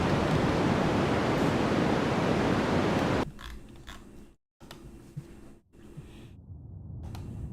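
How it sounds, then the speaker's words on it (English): White noise played back from a video: a loud, steady broadband hiss for about three seconds, then it cuts off abruptly, leaving quieter, broken room sound. "So here's white noise."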